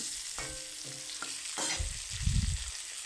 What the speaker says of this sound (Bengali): পরিমাণ মতন নুন দিয়ে ভালো করে নেড়ে চেড়ে নিচ্ছি, দেখতেই পাচ্ছ নাড়ছি